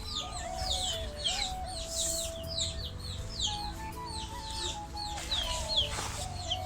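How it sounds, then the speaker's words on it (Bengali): Several chickens cluck and chirp inside a village coop, their calls overlapping near the microphone over a steady low rumble of background noise, with no talking. "এই যে মুরগির ঘর"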